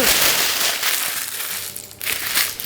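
Close, loud crinkling and crumpling of parchment paper for lining a baking tin, a rough rustling burst that eases briefly before flaring up again.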